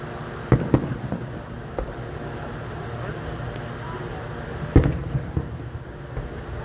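Fireworks exploding in Leitchfield, Kentucky: two sharp distant bangs, each followed by crackling, spaced a few seconds apart over steady outdoor background noise.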